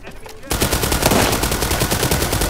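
Rapid automatic fire from a Beryl 762 rifle, customized to look like an AK, in World War 3 kicks in suddenly after a quiet half second and rattles on loudly in fast, even bursts.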